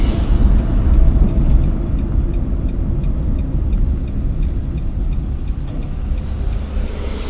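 A car pulls away in first gear during a driving lesson, its steady low engine and road rumble continuous and close from start to finish, with no talk heard.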